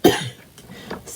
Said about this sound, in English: It's my morning cough